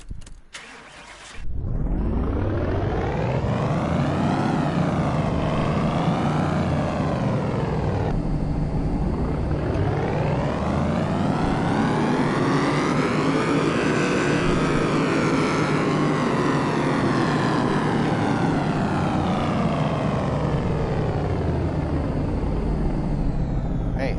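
A restored car engine in the Car Mechanic Simulator game cranks and starts, then revs up and down repeatedly, a loud continuous drone that sweeps up and down in pitch through several long revs.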